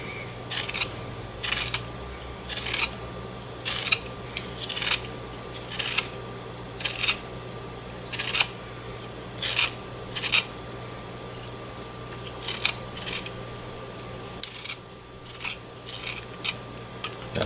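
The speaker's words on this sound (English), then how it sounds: "So I'll zest the lemon." A lemon zester scrapes repeatedly across a lemon's peel in short rasping strokes, roughly one per second, close and fairly loud, with no talking.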